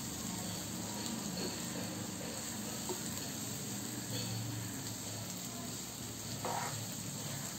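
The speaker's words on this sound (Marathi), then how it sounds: "आता ही शेव आपण यामध्ये परतूया।" Sev sautéing gently in a pan, heard as a soft continuous sizzle with occasional light stirring scrapes over a steady background hum, close but quiet, with no speech.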